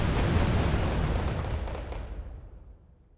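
Rocket pods from a K-29TB attack helicopter detonate in Wargame: Red Dragon, a dense rumbling roar of overlapping blasts that stays loud, then slowly fades and thins out over a few seconds, with no voices.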